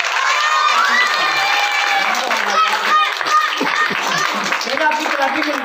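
Loud, continuous cheering, whooping and shouting from a crowd of children at a school magic show, sustained throughout with scattered clapping mixed in.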